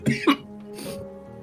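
A person coughs twice in quick succession, close and fairly loud, in the middle of a tabletop roleplaying session, followed by a short breathy throat sound and quiet room tone.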